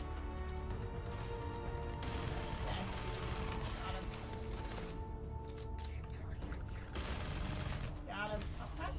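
Sustained gunfire from the video game Starfield rattles continuously under game music and effects, with bursts stacking densely across the whole stretch, loud and close throughout.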